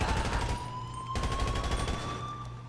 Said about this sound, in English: How am I still getting shot?